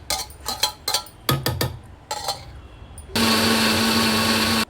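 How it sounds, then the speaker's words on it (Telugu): Kitchen mixer grinder blending tomato chutney, starting abruptly as a loud, steady high-pitched whir with a constant motor hum. Scattered clinks and handling knocks from the jar and lid come just before the motor starts. "గ్రైండ్ చేసేసుకుంటున్నాను"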